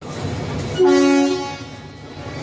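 Train horn sounding at a railway station platform, a single loud tonal blast of about half a second over the crowd noise.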